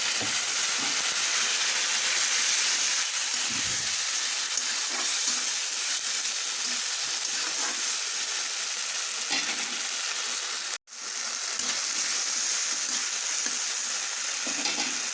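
Spiced paste frying in a pan for Bengali egg curry, with a little water added, hisses and sizzles steadily and loudly throughout, with one brief dropout near the end.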